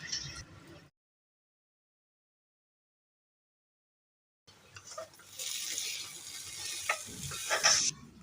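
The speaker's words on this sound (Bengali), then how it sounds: "সবগুলোকে মিডিয়াম হিটে একদম বাগারের জন্য রেডি করে নিচ্ছি লাল লাল করে।" Chopped onion and garlic fry over medium heat for a dal tempering, making a close, steady sizzle with stirring scrapes. The sizzle cuts out briefly to silence, then returns, building louder and more crackly.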